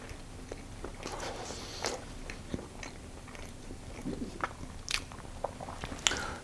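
Someone bites into and chews a crunchy roasted oatmeal muffin with an oat topping, giving close, quiet crunches and soft munching in an irregular rhythm.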